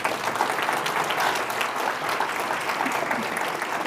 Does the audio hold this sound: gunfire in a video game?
no